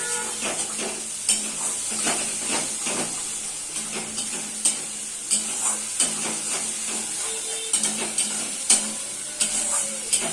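Ginger-garlic spice paste sizzling and being stir-fried in a pan for jhal lote, with steady frying hiss and repeated scraping clinks of a spatula against the pan throughout.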